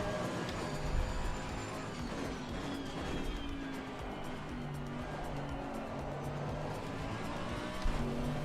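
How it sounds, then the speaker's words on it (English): McLaren GT3 race car engine in the Assetto Corsa Competizione racing game, a steady loud drone with shifting pitch sweeps as it revs through corners, continuous for the whole stretch with no talk. "the sounds in ACC, the car sounds great."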